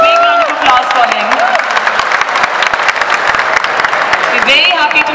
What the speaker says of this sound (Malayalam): A big round of applause for him